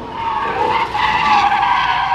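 Dodge Chargers and Challengers skid around a track at a Holley Moparty event, a loud, continuous tire squeal with steady engine roar, close and unbroken, with no talk.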